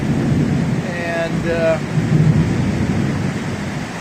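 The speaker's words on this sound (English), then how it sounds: "These afternoon thunderstorms are real typical for the tropics, and it'll rain like crazy" Heavy afternoon tropical thunderstorm rain pours steadily as a broad, loud hiss, with a low rumble of thunder underneath and a brief spoken word near the start.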